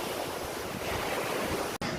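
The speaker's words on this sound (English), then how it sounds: "Wind party on the beach, looks like." Wind gusting across an Oregon beach with surf rolling in, a steady loud roar of breaking waves and wind buffeting the microphone throughout, broken by a brief dropout near the end.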